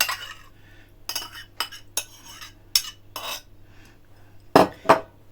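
Metal utensil clinks and scrapes against a dish while a fish layer of a Ukrainian herring-under-a-fur-coat salad is spread and levelled over potatoes; a series of close, sharp taps and clinks, two louder near the end, over a quiet hum.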